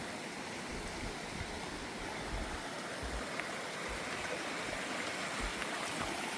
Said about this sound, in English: Little waterfall going on.